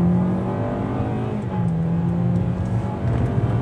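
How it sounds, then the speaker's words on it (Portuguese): Toyota Corolla XEi sedan with CVT accelerating hard from 0 to 100 km/h in Sport mode, a steady close engine drone with a slowly rising pitch and no talk over it. "Vou acelerar, vamos ver se tem emoção no Corolla"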